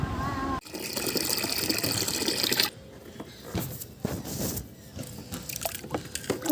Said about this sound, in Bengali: গাছে একটু জল দিয়ে দিই